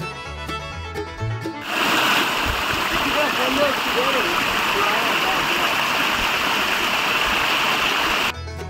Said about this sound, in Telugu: కొండ పైన నుంచి అయితే మనకు వాటర్ అయితే వస్తున్నాయి